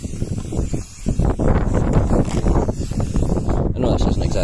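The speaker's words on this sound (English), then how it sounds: "Well, this is going to work, it's pretty windy." Strong gusts buffet the microphone with a loud, continuous rumbling roar, swelling and easing in waves throughout.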